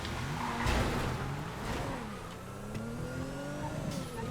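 A car lapping a track in GTA FiveM, its engine droning and shifting pitch through accelerations and gear changes, steady and fairly close, with no voices.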